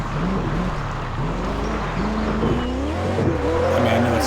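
Muscle car in Test Drive Unlimited 2 revving and drifting continuously, engine drone rising and falling with tire squeal, loud and close throughout; a voice talks briefly over it.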